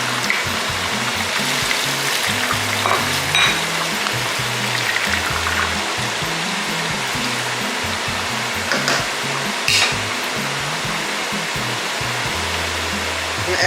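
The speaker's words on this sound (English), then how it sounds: "I got our palm oil on. And we're going to throw in some red onion and white onion." Red and white onions frying in hot palm oil give a loud, steady broadband hiss with constant crackle, continuous and close throughout with no talking.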